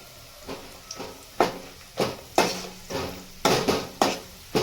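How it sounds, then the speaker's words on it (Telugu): Cashews frying in oil at one side of a pan, with repeated scraping stirs and bursts of sizzle at roughly half-second intervals, close and moderately loud without speech. "ఇప్పుడు ఇక్కడ వన్ సైడ్ అయితే కాజు వేసేస్తున్నాను. అవి ఫాస్ట్గా కుక్ అయిపోతాయి అని, అంటే మనకు ఫాస్ట్గా ఫ్రై అయిపోతాయి."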